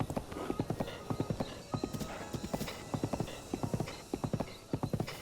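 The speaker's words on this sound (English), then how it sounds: "I gotta tame a horse. I mean, saddle a horse." Horse galloping in The Legend of Zelda: Breath of the Wild, a steady run of quick rhythmic hoof clip-clops in repeated bursts, close and clear, with a brief whinny-like sound partway through.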